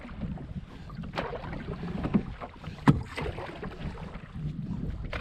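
Canoe paddled through rough, windy water, with wind noise and water sloshing against the hull, a few soft paddle strokes and splashes, close and steady, with no talking.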